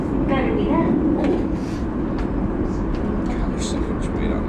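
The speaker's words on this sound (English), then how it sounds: "Train to Aeroport Terminal 1." Steady low rumble of a moving airport metro train bound for Terminal 1, with faint voices and occasional clanks over the continuous rolling noise.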